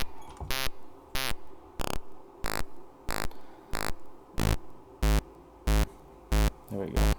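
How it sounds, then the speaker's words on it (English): A pulse wave from the ether oscillator of a Lizard2 synthesizer plays as a sequence of evenly spaced, short buzzy tones, about ten loud distinct notes in a steady rhythm with brief gaps between them. "So here's a pulse wave from the ether oscillator."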